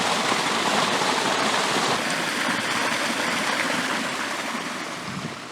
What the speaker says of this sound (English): this is the Kettle River